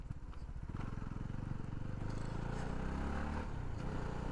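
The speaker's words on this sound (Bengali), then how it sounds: "এই যে আমি বাইকটা নিয়ে একটু ভাঙাচোরার মধ্যেই যাচ্ছি" A CF Moto NK300 motorcycle rides over a rough, broken road, its engine droning steadily at moderate distance with faint knocks and rattles from the uneven surface.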